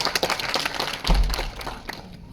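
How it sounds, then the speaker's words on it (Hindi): Audience applause in a lecture hall, a dense patter of many hands clapping close by with a few heavier thumps and a faint voice beneath. "ताली मत बजाइए"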